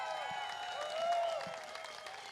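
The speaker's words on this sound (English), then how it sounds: "Irina Tereshchenko, round of applause please for our gold medalist." Steady applause from a crowd at a pickleball championship medal ceremony fills the whole stretch, a broad continuous clatter with a faint tonal hum running beneath it.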